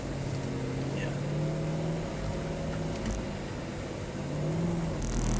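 A Mercedes-AMG car drives on a track with traction systems on, its engine droning steadily and loud throughout, with faint tire and road noise and brief higher squeals.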